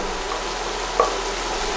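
Courgette browning in a frying pan for a vegan Spanish omelette, with a steady close sizzle and one brief clink of a utensil against the pan partway through.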